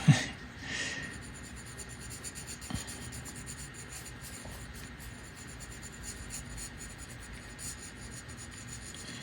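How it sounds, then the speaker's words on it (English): Pencil drawing a spoon on paper, a steady soft scratching and rubbing of graphite that runs continuously and close, fairly quiet, with no talking. "Flashback to drawing the spoon."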